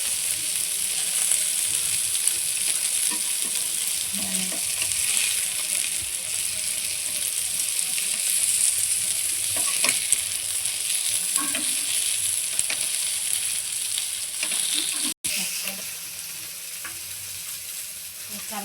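Bombil, or Bombay duck fish, frying in a pan in a Malvani-style kitchen, with a steady dense sizzle and crackle of hot oil that carries on throughout, close by and fairly loud, with no voices.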